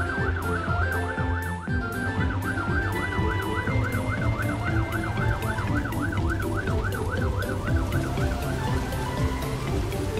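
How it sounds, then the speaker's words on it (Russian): A cartoon fire truck siren wails in a steady rising-and-falling cycle, loud and close, over a busy layer of traffic and engine rumble. "Уступите дорогу! Едет пожарная машина!"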